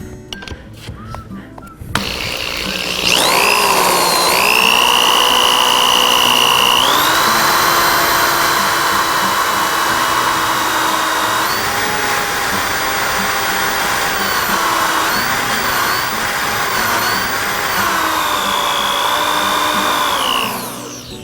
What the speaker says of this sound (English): if I put it in a drill and I drill down there